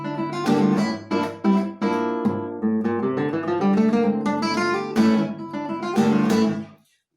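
Classical guitar playing the opening of the Garrotín from Joaquín Turina's Homenaje a Tárrega, a 20th-century Spanish piece, with strummed chords and quick runs, close and full, ending with a fading final chord.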